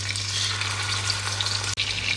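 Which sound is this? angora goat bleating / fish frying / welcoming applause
fish frying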